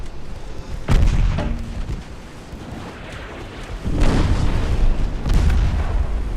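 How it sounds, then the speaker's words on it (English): Torpedoes launched and striking ships in a 1900s naval battle of a strategy game, heard as heavy booming blasts, one early and another pair later, rumbling over continuous battle noise. "Torpedo hit."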